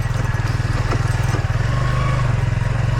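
A Suzuki Gixxer 155 FI ABS motorcycle engine chugs loudly and steadily nearby, its rapid pulsing rhythm constant throughout as the bike rolls through a field.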